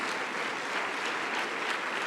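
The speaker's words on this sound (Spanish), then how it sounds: "Dale un aplauso al Rey." A church congregation applauding continuously during a Sunday sermon, a dense even wash of clapping at moderate volume with no pauses.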